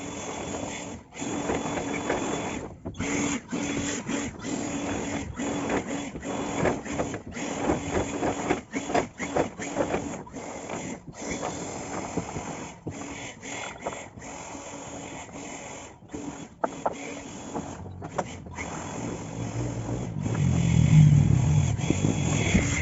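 A steady mechanical whir of a blower motor runs continuously, fairly loud and close, with brief dips and a heavier low rumble near the end.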